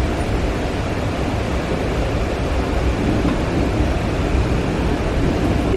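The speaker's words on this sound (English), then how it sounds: "is another train going past us" A steady, loud rumbling roar of a passing Amtrak train in Montana, continuous broadband noise with no break, close by and with no voices.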